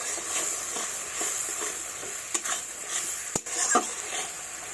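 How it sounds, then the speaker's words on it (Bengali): A spice paste thinned with water is stirred in a pan, giving a soft, steady simmering hiss with scattered light scrapes and a couple of sharp utensil taps against the metal. "জল দিয়ে দিয়েছি, এবার এইভাবে নাড়াচাড়া করবো।"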